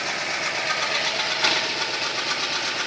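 A 1988 one-ton truck engine runs rich while idling, making a loud, close, continuous rumble with an uneven knocking pulse throughout and no voices.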